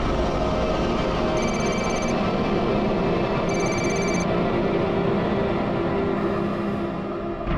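A phone rings indoors in two bursts of electronic trilling, with a third fainter ring near the end, over a steady low background hum.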